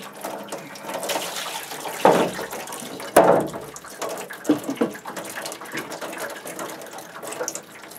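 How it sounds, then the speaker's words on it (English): Water draining out of a UV germicidal system filter housing with dirty filters, a continuous trickling and splashing flow with a couple of louder gurgling bursts, close by. "what will happen is the water will drain out."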